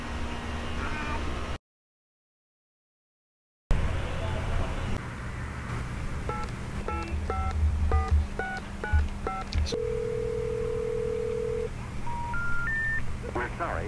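A telephone number being dialed, a quick run of keypad tones that ends in a few rising signal tones, over a low hum and background noise from outside.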